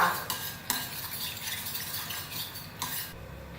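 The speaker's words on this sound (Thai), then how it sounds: "แป้งข้าวโพดค่ะ 1 ช้อนโต๊ะ ละลายก่อนเลยค่ะ" Spoon stirring a tablespoon of cornstarch into two tablespoons of water in a small bowl, a steady soft scraping swirl with a few light clinks, close and quiet, no talking.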